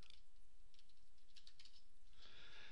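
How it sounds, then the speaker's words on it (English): Computer keyboard being typed on to enter a command, with a short run of soft, quick key taps at close range and no voices. "And let's type in circle jig."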